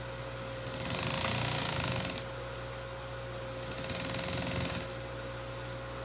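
A sewing machine stitches acrylic blanket fabric with long stitches, running in two steady whirring bursts close by, over a constant low electrical hum and without talk.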